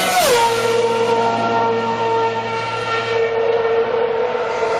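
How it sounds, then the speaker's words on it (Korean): A loud Formula 1 race car engine whine drops sharply in pitch as the car rushes past, then holds a lower droning tone as it moves away. "차가 다가올 때 소리가 높아지고"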